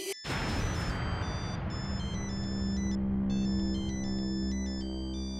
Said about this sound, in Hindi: फोन उठाओ उठाओ फोन